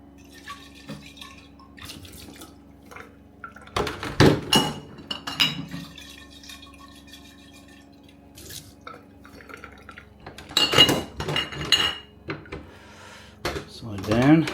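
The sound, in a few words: water rinsing and draining from homebrew bottles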